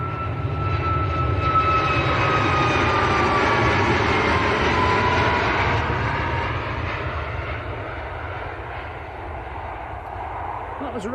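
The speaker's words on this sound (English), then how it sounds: "That was Ryanair to Krakow." A Ryanair jet departing Manchester Airport for Krakow roars loudly and steadily, a sustained engine rumble with a descending whine that slowly fades toward the end.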